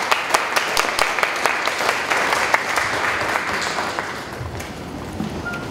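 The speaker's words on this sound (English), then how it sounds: "So give yourselves a round of applause for a great exhibit" Applause from a museum exhibit opening crowd, brisk clapping with a few sharp individual claps standing out, gradually dying away over several seconds into quiet room noise.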